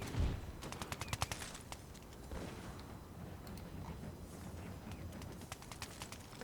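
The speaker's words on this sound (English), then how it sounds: "The Cazadores have opened fire." Musket volleys from Cazadores light infantry in Napoleon Total War with DarthMod: a rapid, crackling fusillade of many overlapping shots, loudest early, then a steady distant popping over a rumbling battlefield.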